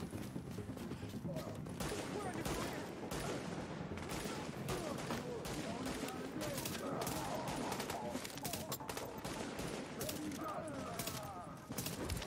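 Rapid, dense gunfire crackles almost continuously from enemies in Tom Clancy's The Division, a loud fusillade of shots with a person talking over it.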